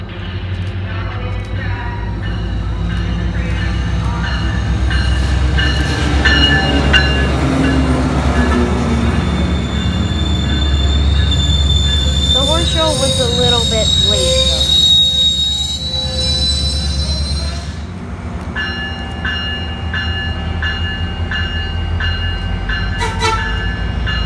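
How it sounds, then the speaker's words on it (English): MP36-3C locomotive leading a train out of LA Union Station, its loud engine rumble joined by squealing wheels and a few short, restrained horn blasts midway, close by. "we have another MP36-3C leading a train out of LA Union Station, and they give us a very minor hornshow"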